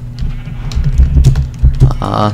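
Blocky Minecraft sheep bleat in short repeated calls against a steady game background, with a voice talking over them near the end.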